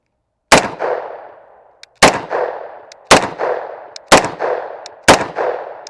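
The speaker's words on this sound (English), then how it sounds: "I'm gonna shoot a few slow and then a few faster" Five sharp, loud gunshots from a Taurus TH10 10mm pistol, each cracking close up and ringing off in a short echoing decay, spaced about a second apart and coming slightly faster toward the end.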